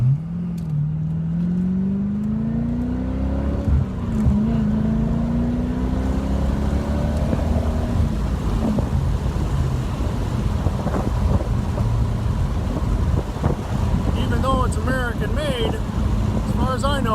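A 2017 Chevrolet Corvette ZR1 drives a winding road, its engine note climbing and settling through gear changes and then becoming a steady rumble under road and wind noise, with someone talking over it.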